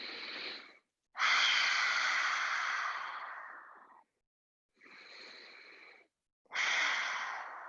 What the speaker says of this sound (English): Take a few breaths in and out.